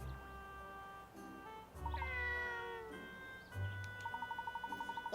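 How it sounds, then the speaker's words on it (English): Cat in the game Layton's Mystery Journey, a couple of clear, drawn-out meows in the foreground, followed by a quick run of chirping game tones, with no talk over it. "Oh, there's a cat!"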